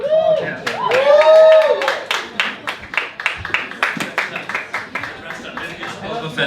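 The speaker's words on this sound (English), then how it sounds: "let's give them a big round of applause" A small audience claps for a musical cast at a jamboree show, loose individual claps spreading out over several seconds, with a voice whooping and talking over the start.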